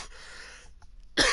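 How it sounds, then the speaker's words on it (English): A single sharp cough bursts close into a headset microphone during a game session of Overwatch on Watchpoint Gibraltar, loud and abrupt after a near-silent stretch. "I just coughed straight into the mic"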